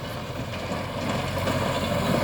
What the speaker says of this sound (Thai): นี่นะครับรถไถ ออกใหม่ป้ายแดง คันนี้ครับคันใหญ่ครับ